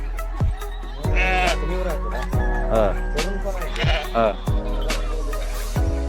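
Several sheep bleat repeatedly nearby, overlapping wavering cries over a steady low hum, with a few short thuds between them.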